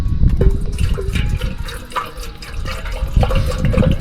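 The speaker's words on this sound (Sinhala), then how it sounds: "ඔන්න අපි වතුර දාගමු." Water pours into a cooking pot on a gas stove, giving a steady, loud gushing and splashing for about four seconds with no pauses and no voices.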